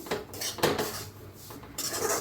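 Dried grated coconut roasted in a pan while a spatula scrapes and stirs it, giving a few close rasping metal strokes with short gaps and no talking.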